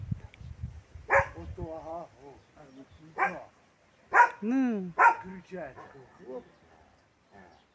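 Village dogs bark in a handful of sharp, separate bursts spread across several seconds, fairly close and loud, with a brief spoken word and faint background sounds between them.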